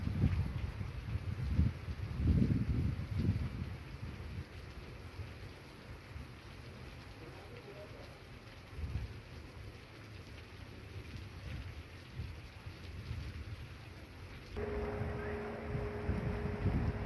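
Heavy rain pours down steadily, a dense continuous wash of sound with low rumbling swells like distant thunder near the start, no voices heard.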